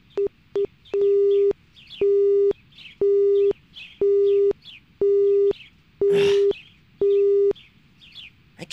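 Cell phone busy signal in the InuYasha: Secret of the Cursed Mask video game: a loud, regular series of identical electronic tones, each about half a second long with equal gaps, repeating about eight times, with faint chirping game sounds behind.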